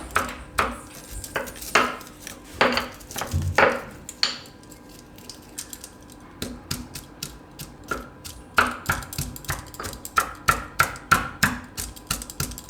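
Garlic crushed finely with salt in a Gujarati kitchen while making winter soup, a series of sharp pounding and chopping knocks in irregular bursts, close and fairly loud, with faint clinks between strikes.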